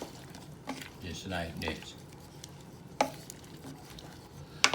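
Green beans are stirred in a Power XL cooker while making shrimp stew, with soft scraping and squishing stirs and a few sharper utensil knocks against the pot, under a brief spoken phrase.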